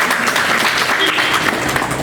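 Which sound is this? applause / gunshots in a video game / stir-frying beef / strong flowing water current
applause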